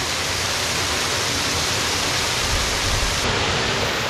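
Small waterfall at Henderson Creek Park in Toccoa, Georgia, giving a steady, dense rushing hiss of falling water, close and even throughout with no voices.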